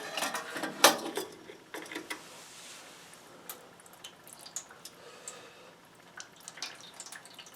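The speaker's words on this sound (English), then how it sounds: "we're going to let some fuel drip out" Fuel oil drips from the nozzle of an oil furnace during a tune-up: scattered small taps and drips, faint and irregular, with one sharper clink near the start over a quiet background.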